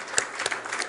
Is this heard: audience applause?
yes